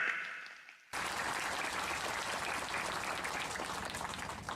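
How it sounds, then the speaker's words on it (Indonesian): An evening religious gathering in Krasak, Jember, breaks into applause after a brief fading remark, a sudden, full burst of crowd clapping that holds steady for several seconds. "Tepuk tangan"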